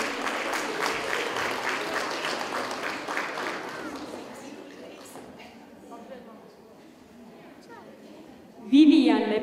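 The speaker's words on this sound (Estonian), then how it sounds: "Gustav tuleb, suur aplaus!" Applause from an audience at a children's song contest builds loudly, then fades over several seconds into a quieter room, with a voice speaking near the end.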